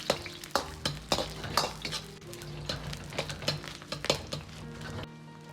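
Sliced pork stir-fried in a hot wok with a little scallion oil: a steady sizzle broken by repeated sharp scrapes and clinks of the spatula against the metal, close and fairly loud, with no talking.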